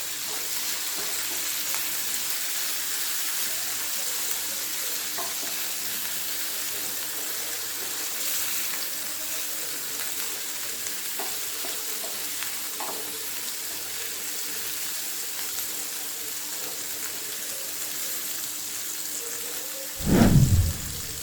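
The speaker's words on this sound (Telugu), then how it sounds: "ఇప్పుడు కట్ చేసి పెట్టుకున్న టమోటా వేసుకొని రెండు నిమిషాలు ఫ్రై చేసుకుందామండి" Chopped tomato fries in a pan with a steady, close sizzle that runs unbroken for a long stretch, ending in a brief louder splash of noise.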